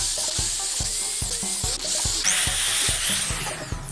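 A power drill bores holes in a metal cylinder being made into part of a home-built hydro dam, with a loud whirring motor, a series of rhythmic clicks and taps, and a brighter high whine as the bit bites in.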